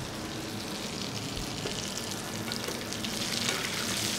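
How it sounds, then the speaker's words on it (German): Lamb back fillet sizzles in a pan while it is basted with brown butter, rosemary and garlic, giving a soft, even crackle that swells slightly toward the end, with no voices present. "Packen wir das jetzt hier noch mal rein und beträufeln das noch mal ein bisschen mit Butter"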